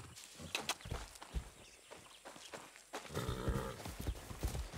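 Horse hooves clip-clop in the Far Cry 6 co-op video game, a steady run of close, rhythmic steps that grows busier and louder in the final seconds.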